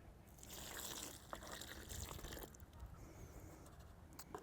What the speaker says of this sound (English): And to that, I'll add 1 part water.